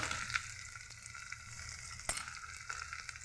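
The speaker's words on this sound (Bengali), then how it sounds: "আমার ভাজা হয়ে গেছে, এখন আমি দিয়ে দিচ্ছি ঢেঁড়সের টুকরোগুলি।" Okra pieces fry in a pan with oil, giving a soft continuous sizzle with occasional crackles and a clink of stirring, fairly quiet and steady.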